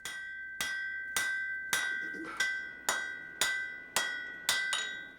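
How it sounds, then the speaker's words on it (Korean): Hammer striking red-hot iron while forging a knife blade by hand, nine evenly spaced ringing metallic blows with a bright clink and short decay, close and alone. "벌겋게 달궈진 쇠를 수도 없이 망치로 타스려야 칼날의 모양이 만들어진다"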